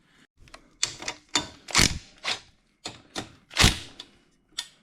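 Sharp metallic ratchet clicks come in short bursts with brief pauses as a wrench loosens the frame guard bolts on a crusty 1993 Honda CR500, the sound close and fairly quiet.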